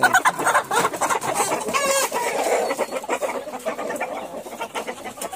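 Two Tiger-breed hens and a rooster cluck busily and close by on a farm, with the rooster's crow rising briefly among the continuous chatter.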